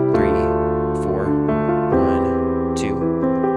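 Worship-style piano chords struck on beats one and three of each bar, a steady sustained harmonic pattern with clear note onsets roughly every second, played close and fairly loud.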